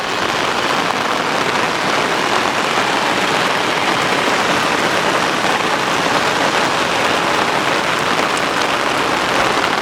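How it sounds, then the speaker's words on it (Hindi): Heavy monsoon rain pours steadily in northeast India near Bhalukpong, Arunachal Pradesh, a dense, continuous hiss of drops pattering on surfaces at constant loudness with no voices. "बहुत तेज़ बारिश हो रही है।"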